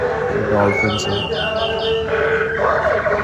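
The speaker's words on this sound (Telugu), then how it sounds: "ఈ బర్డ్స్ సౌండ్స్ కూడా మీకు వినపడుతున్నాయి అనుకుంటా" Moving bird statues at an animal exhibition give out electronic chirps and tweets in short repeated bursts over a constant crowd and mechanical hum, with someone speaking briefly.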